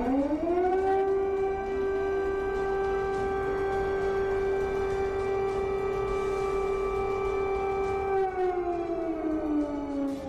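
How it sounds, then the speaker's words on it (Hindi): A civil defense siren wails steadily at a sustained pitch, then slowly drops in tone near the end, loud and alone. "चौबीस घंटे से व्हाइट हाउस में सायरन बज रहा है"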